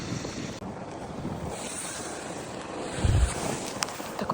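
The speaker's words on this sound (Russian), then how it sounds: "Сегодня день такой ветреный." Wind blows across a village yard on a windy day, a steady rushing roar with gusty buffeting on the microphone and a low thump, no voices.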